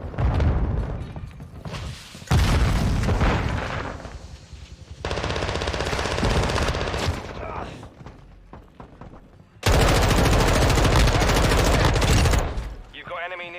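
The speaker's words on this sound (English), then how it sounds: "Grenade." Grenade explosions and automatic gunfire ring out in Call of Duty: Modern Warfare II, with loud dense bursts of shots broken by several heavy blasts. Game voice callouts sound faintly in places.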